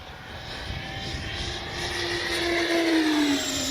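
A Freewing Mirage RC jet in a full-speed hard dive, its engine a continuous roar that builds in loudness, with a rising whine that climbs then drops near the end, heard from the ground outdoors.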